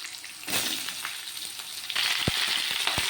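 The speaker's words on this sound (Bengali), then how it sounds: "এবার ফোড়নের গন্ধ বেরিয়ে গেছে, ঝিঙেগুলো আমি ফোড়নের সঙ্গে অ্যাড করে দিচ্ছি।" Chopped ridge gourd drops into hot oil with a spice tempering, setting off a loud steady sizzle with a few sharp spits and pops, heard up close with no talking.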